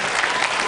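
Studio audience applauding a game-show contestant, a dense burst of clapping from a crowd filling the short moment without any talk.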